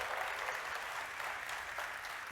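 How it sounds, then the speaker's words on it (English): An audience at the AMD E3 2016 press conference applauds a contest winner with steady, moderately distant clapping that holds evenly, and a voice breaks in at the very end. "Let's give one round of applause for Christina."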